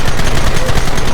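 A mounted gun fires in the Red Dead Redemption video game, a loud, rapid, continuous rattle of shots in quick rhythmic bursts close up.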